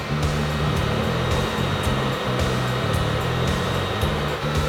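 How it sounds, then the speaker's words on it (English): A hair dryer heats paint protection film on an off-road vehicle, blowing steadily up close, a loud continuous whooshing roar with a low motor hum, with no talking. "I applied heat from a hairdryer to any pinstripes that I could find"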